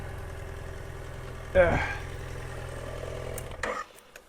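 A motorcycle engine idles with a low, steady hum at a trail stop, then revs briefly and cuts off, leaving near silence at the end.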